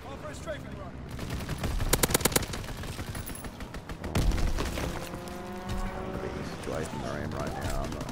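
Aircraft strafing-run gunfire in Call of Duty WW2: sharp clusters of rapid shots crack out twice amid dense game noise, and voices are heard throughout.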